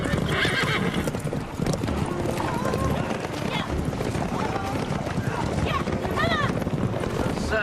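Horses trot with steady clip-clop hoofbeats and neigh several times in a dramatized audio scene, loud and continuous, with voices speaking over the hooves.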